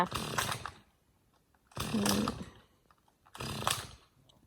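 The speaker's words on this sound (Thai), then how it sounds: "ก็จะมีเสียงเครื่องตัด ด้วยนะคะ เสียงเลื่อยเนาะ" A chainsaw cuts tree wood at a forest home by a lake in three separate bursts, each a second or so long, with short quiet pauses between them. It sounds somewhat distant.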